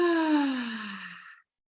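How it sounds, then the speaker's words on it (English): A slow, deep exhale in a calm guided relaxation session, audible alone as one long breathy sigh with a gently falling voiced tone that fades out after about a second and a half. "Take a nice deep breath."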